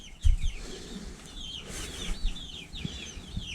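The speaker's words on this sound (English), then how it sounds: "got our 20 chicks." Twenty young chicks peep and cheep rapidly alongside larger chickens clucking nearby, a busy overlapping chorus of high chirps with a few soft low thumps and rustles, no talking.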